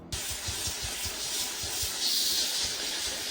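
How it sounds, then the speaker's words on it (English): A steam cleaner hisses steadily throughout, a continuous bright spray of steam with faint rhythmic knocking underneath, close and moderately loud with no talking. "This is just a few clips of me using the steam cleaner."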